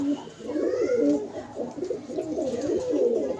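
Pigeons in a breeding cage give low, soft, rolling coos, repeated close by with little pause, and a quiet background lies beneath them.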